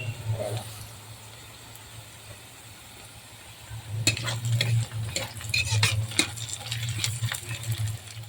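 Sliced onions for biryani fry in a pan: a soft sizzle at first, then busy scraping and clattering stirring strokes over the steady frying hiss for the second half.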